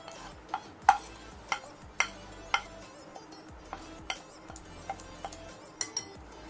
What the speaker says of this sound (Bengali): এবার উপকরণগুলো দিয়ে ভালো করে মিশিয়ে নিচ্ছি, হাত লাগাতেই হবে আমার।